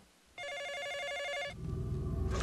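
An old-style telephone bell rings in one sustained, rapidly trilling burst in a film trailer, fairly loud and clear, then cuts off as a low rumble of score swells in.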